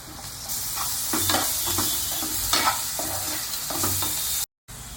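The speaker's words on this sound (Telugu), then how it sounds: "ఇలా ఉల్లిపాయ బాగా వేయించుకోవాలి." Onions sautéing in a pan with ginger paste and turmeric for chicken leg curry, a continuous near sizzle broken by rhythmic stirring scrapes, ending in a brief dropout.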